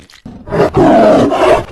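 A tiger gives a single loud, close roar that swells into a long, rumbling growl and holds it for about a second and a half, with no talk over it.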